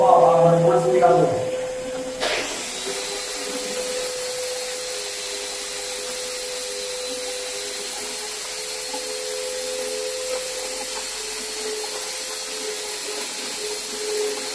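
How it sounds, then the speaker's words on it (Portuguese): A vacuum cleaner pulls dust from the surface during sanding. After a brief noisy scuffle, it settles into a constant, close, droning whine that holds steady to the end. "agora com o aspirador."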